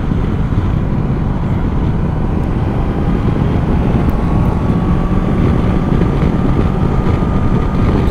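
Honda CB500X (2022) motorcycle cruising at speed on the Autobahn, a steady, dense roar of engine drone and heavy wind buffeting over the microphone throughout, with no pauses or talking.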